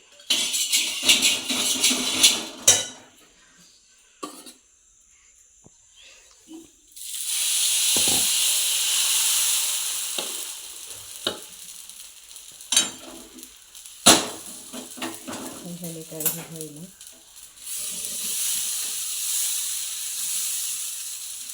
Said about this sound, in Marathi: बघा बस आता डोसे करते बघा थोडंसं तेल